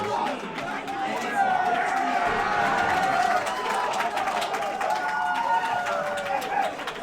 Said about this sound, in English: The Platteview student crowd here is just going crazy today.